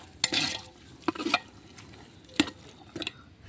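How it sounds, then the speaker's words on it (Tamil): Tomatoes being stirred into chicken biryani in a large pot, a batch for thirty people: a few distinct scraping strokes of a spoon against the pot, separated by quiet gaps, close and fairly soft. "இப்போ தக்காளி சேர்த்துட்டு தக்காளியை நல்லா கிளறி விடலாம்."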